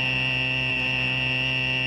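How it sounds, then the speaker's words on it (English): A smoke detector alarm sounds continuously, a loud, steady electronic tone with a buzzing edge, close by and unbroken. "When minute particles of smoke hit your smoke detector like this"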